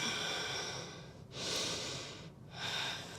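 Close, slow breathing during a vinyasa yoga pose: a long airy breath followed by another after a short dip, soft and rhythmic with no talk.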